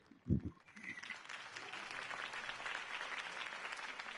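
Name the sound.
crowd applause in a video game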